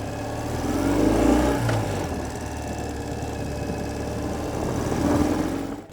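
A 2018 Ural Retro M70 motorcycle pulls away in first gear, its engine a steady, fairly loud drone that swells briefly at the start and again near the end, with no voices.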